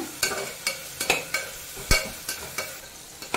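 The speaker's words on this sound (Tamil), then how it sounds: "வெங்காயம் நல்ல கலர் மாற வரைக்கும் வதக்கிக்கோங்க." Onion and slit green chilies sauté in a pan, with about ten short, sharp spatula scrapes in a quick, even rhythm over a soft background sizzle.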